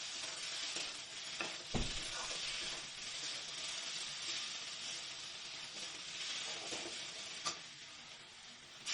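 Okra with mustard and sugar sautéing in a pan for a Bengali chorchori, a soft, even sizzle with a few faint stirring clicks, quiet and continuous, without speech.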